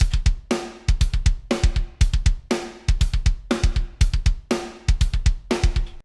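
A programmed MIDI drum pattern in Reaper repeats evenly across measures, with quarter-note closed hi-hat over kick and snare hits, crisp, loud and alone.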